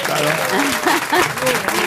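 Studio audience applause on a French talk show, a dense steady wash of clapping with voices talking over it the whole time.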